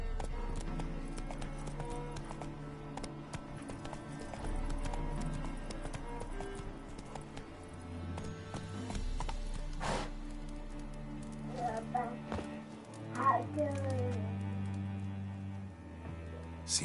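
Roach the horse gallops in The Witcher 3, a steady clip-clop of hooves running under music and game ambience, with brief voices and a whinny-like flourish near the end.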